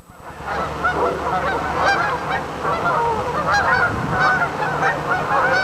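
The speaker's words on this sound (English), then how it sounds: "Lots and lots of geese out here." A large flock of geese outdoors, honking loudly and continuously with many overlapping calls, close and busy throughout.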